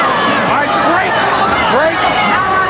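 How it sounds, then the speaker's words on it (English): A boxing crowd roars and cheers during a bout between Wilford Scypion and Mustafa Hamsho, a loud, dense wash of shouting voices urging a fighter on, steady throughout with babble underneath. "Crowd is urging Scypion on"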